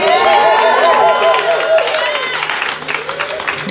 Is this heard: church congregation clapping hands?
yes